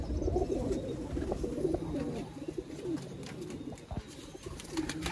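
Pigeons coo in a loft holding a large flock, soft overlapping low calls continuing throughout with faint rustling and background noise.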